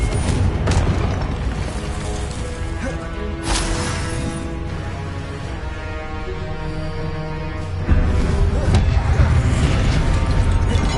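A Confringo blasting spell explosion in Hogwarts Legacy, several loud booms and bursts in a spell-casting fight, with a sharp blast partway through and another heavy burst near the end over a dense magical and musical background.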